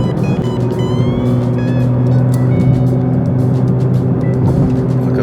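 A Porsche GT3 with a 4-litre engine drives in a street convoy of supercars, its engine a loud, steady close-up drone with a constant low hum and faint higher whine throughout.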